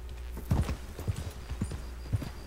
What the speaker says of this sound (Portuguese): Cavalos.